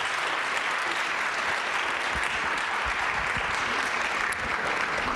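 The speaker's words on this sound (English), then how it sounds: "let's give one last round of applause for these wonderful students" Sustained applause from a school audience of parents and guests at an evening event honoring students, steady and dense throughout at even loudness, with no talk over it.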